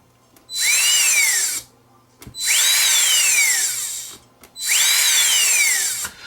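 A DeWALT vacuum motor tries three times to start, and each time it whirs up with a rising then falling pitch for about a second before the controller cuts it off. The bursts are loud and separated by short gaps.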